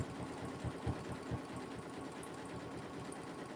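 A sewing machine runs steadily on green thread, stitching a coiled fabric trivet with a fast, even mechanical whir, close and alone with no voices.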